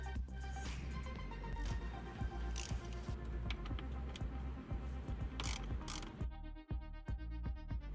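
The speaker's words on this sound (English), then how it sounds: "Now there's 2 10mm bolts that we have to remove." A ratchet wrench removing 10mm bolts that hold the radiator fan on a Nissan Quest: steady, close, rapid clicking runs almost continuously, with a brief break near the end, and no talking.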